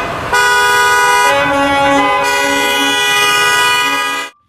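A toy school bus horn sounds a loud, steady electronic honk with a rich buzzy tone, holding for about four seconds with a slight pitch change midway before stopping.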